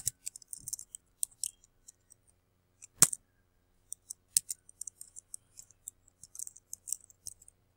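Computer keyboard typing while entering a search term into PubMed: sparse, light clicks and taps scattered across the clip, with one sharper click near the middle, quiet and close with no talking.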